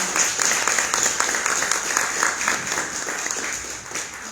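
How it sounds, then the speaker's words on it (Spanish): Audience applause at a book launch greets the author, with individual claps standing out within a lively, steady round that tapers slightly near the end. "a quien yo pido un aplauso"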